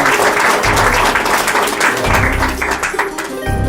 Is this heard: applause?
yes